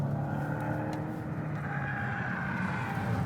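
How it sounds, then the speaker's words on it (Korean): A Volvo V60 Cross Country facelift drives along a road, with a steady engine and tyre drone heard from inside the car, even and continuous with faint tonal hum. "크로스컨트리와 함께 가볍게 달려볼까요?"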